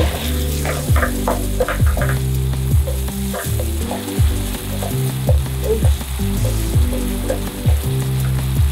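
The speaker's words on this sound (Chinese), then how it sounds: "炒到鸡肉熟透了，就可以倒入刚刚我们调的酱汁" Chicken stir-frying in a hot wok for Thai basil chicken (pad kra pao), a loud, steady sizzle with repeated scraping and clattering strokes of the spatula throughout.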